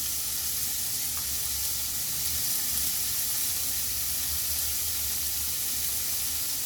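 Radish and onion sauté in oil with salt for sambar, producing a continuous even hiss of frying over a faint low rumble, steady and unbroken with no voices.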